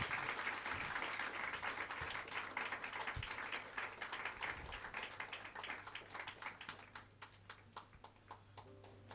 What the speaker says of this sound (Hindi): हम प्रॉफेट नोएल लिविंगस्टन को ताली बजा के हम स्वागत करें